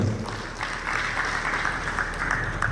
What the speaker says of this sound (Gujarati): પાર્કિંગ વિભાગને એકવાર તાળીથી વધાવીએ આપણે